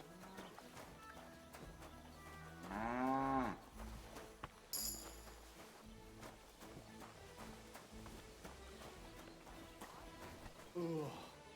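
A bull in the Kingdom Come: Deliverance 2 video game gives a loud, drawn-out moo close by, with a second shorter low call near the end, over game music and ambient activity while a voice talks.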